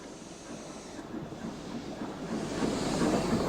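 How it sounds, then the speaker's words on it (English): An Isle of Man Railway train from Peel, headed by a Beyer Peacock 2-4-0 tank locomotive, runs into Douglas station with a steady rumbling roll and hiss that grows slightly louder as it nears. "A train from Peel, headed by one of the iconic Bayer Peacock 240 tanks, runs into the station"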